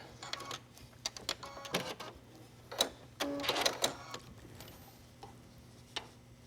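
A sewing machine zigzag-stitches elastic onto a tank top garment, running in short mechanical bursts with brief pauses between them and a faint steady hum underneath.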